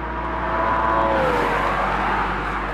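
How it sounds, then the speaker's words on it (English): A 2013 Porsche Boxster sports car engine revs hard toward its redline, a loud, steady, close-up mechanical roar with a rising tone and no talking. "Both engines sound thrilling as they rev towards their red lines."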